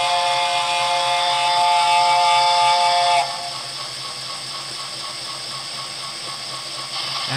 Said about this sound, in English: Okay, let's give her a nice long whistle.